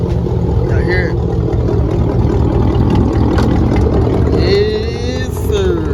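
An LS-swapped two-door Chevy Tahoe with new dual straight-pipe exhaust rumbles loudly and steadily at close range, with a voice over it.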